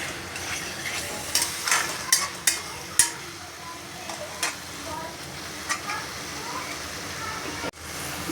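Egg stirred and fried with a cooked spice masala in a pan: a steady sizzle with irregular scraping clicks of the spatula, a voice speaking at times over the cooking.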